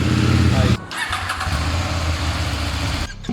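A CFMOTO motorcycle engine revs loudly, drops to a brief pause, then settles into a steady idle before another short cut-off, with a voice talking over part of it.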